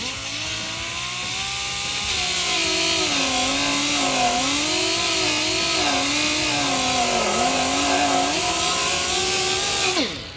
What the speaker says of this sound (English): we're just going to grind away some of the paint here